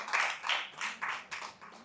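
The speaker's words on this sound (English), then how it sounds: "A big applause to all the members from" A few people clap at a university closing session, a sparse, faint patter of about five soft bursts in quick succession.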